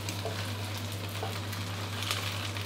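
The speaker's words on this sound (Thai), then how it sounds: "เสร็จแล้วก็ทอดต่อไปเลยครับ" Batter for crispy fried mussel pancake fries in hot oil, a steady close sizzle with faint crackles over a low background hum.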